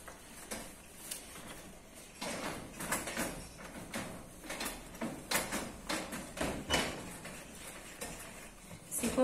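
Cabinet drawer and doors handled during a kitchen cupboard cleaning, giving a series of near wooden knocks, slides and clacks in an irregular rhythm across the whole stretch, with no talk.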